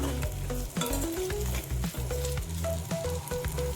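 A sautéed pirandai chutney mixture is stirred in a pan with a continuous close sizzle and scraping strokes, under steady tonal background music.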